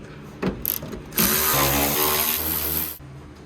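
A ratchet loosens 12 mm seat bolts in a Mitsubishi Mighty Max truck cab, a couple of short clicks, then a sustained buzzing whir of a powered ratchet, close and loud.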